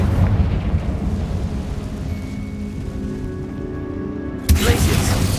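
A Confringo fire spell bursts in Hogwarts Legacy inside a tomb, a rumbling fiery roar under low background hum, ending in a sudden loud crackling blast near the close.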